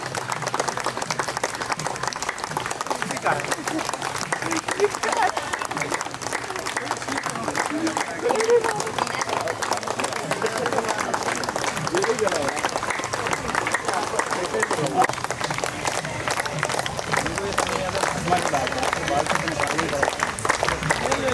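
An audience in a garden event hall keeps applauding during an honouring ceremony at a foundation function, sustained loud clapping with a voice talking over it for the whole stretch.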